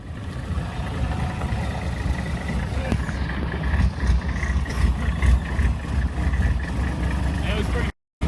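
A Corvette fitted with a turbocharged diesel engine rolling in slowly, a low steady rumble and idle drone with slight surges, close by, with people talking over it before the sound cuts off abruptly.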